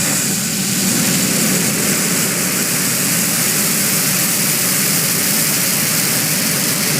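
A Falcon 9 rocket launching a Starlink mission produces a continuous broadband roar, steady and dense throughout with a deep rumble underneath, heard alone.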